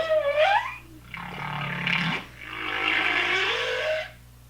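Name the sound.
humpback whale vocalization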